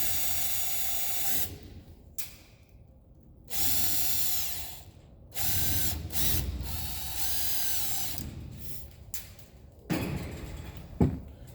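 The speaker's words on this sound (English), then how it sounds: "Before I do this, pull these screws out, makes it a little easier." A power tool runs in bursts while screws are backed out of an electrical box during shop wiring with MC cable in cold weather, a loud high whirring that starts and stops several times with short pauses and clicks between.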